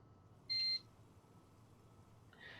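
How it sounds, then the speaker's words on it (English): A single short electronic beep from the video game The Letter, clear and tonal over a quiet low hum, with a fainter second tone starting at the very end. "The beep quickly pulls me back before my thoughts travel any further."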